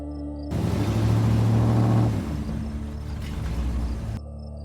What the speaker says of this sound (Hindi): तभी दूर से एक गाड़ी जाती है।